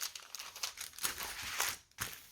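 Thick protective paper crinkles and crumples while a diamond painting and cross-stitch kit is unboxed, giving a steady run of close, rustling crackles with a few louder crunches and one brief pause near the end.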